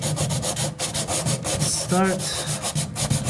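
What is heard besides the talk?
hand sanding bifold door with 180 grit sandpaper block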